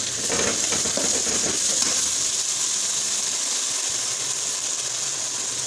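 Yogurt hitting a pan of well-roasted masala while cooking an eggplant dish, a brief sputtering burst that settles into a steady soft sizzle and hiss, close and continuous, no talking.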